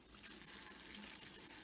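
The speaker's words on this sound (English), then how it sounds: "So now I'm going to start sparging, and I just turn on the tap" Tap water running steadily into brewing gear to sparge a mash of malt for a homebrewed autumn pale ale, a continuous close hiss and splash.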